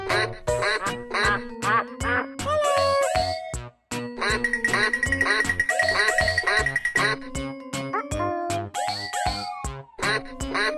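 A cartoon-style duck quacks repeatedly and loudly in a busy, jingly game soundtrack, the quacks coming in quick bursts with chimes and tones around them.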